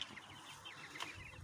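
A rooster gives a short, faint cluck or two alone on a farm, with quiet background noise around it.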